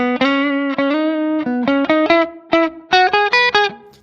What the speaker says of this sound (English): It's put you in a space reverb, like in a real room.